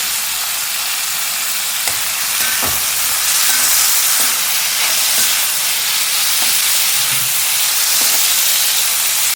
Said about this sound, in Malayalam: ഇനി ഇതിലേക്ക് അരിഞ്ഞു വെച്ചിരിക്കുന്ന കോവയ്ക്കയാണ്, അതുകൂടി ചേർത്ത് ഒന്ന് വാട്ടിയെടുക്കാം